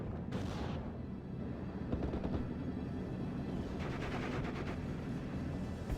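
In the WWII strategy game Steel Division 44, automatic rifles fire in rapid bursts at Panzergrenadiers, with sharp cracks and rattling volleys over a constant rumbling battlefield bed, some shots close and others more distant.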